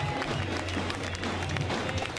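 A crowd at a Street League skateboarding contest in Barcelona cheers and applauds steadily, a dense wash of distant voices and clapping that holds without letup.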